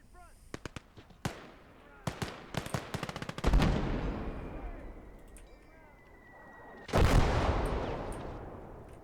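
Gunfire in the World War II strategy game Call To Arms: Gates Of Hell, a quick string of sharp rifle and machine-gun shots followed by two heavy rumbling explosions that roll away into the distance, with brief game voice callouts.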